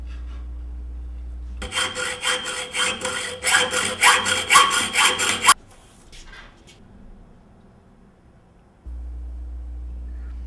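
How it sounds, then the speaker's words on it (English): A 1/4-inch threaded metal rod being sawn by hand into short studs, a steady run of close, rhythmic rasping strokes lasting a few seconds before the cutting stops and only a low hum remains. "We're going to cut this into studs that are approximately 1 3/8 inches long."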